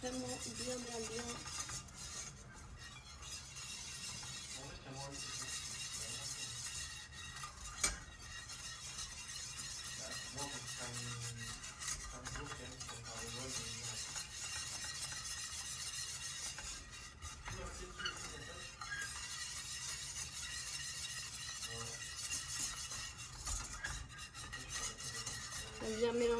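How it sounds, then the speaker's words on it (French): Tart filling mixture being stirred in a bowl, a continuous scraping and rubbing of the utensil with one sharp knock partway through, quiet and close. "Et on mélange vraiment bien, bien, bien."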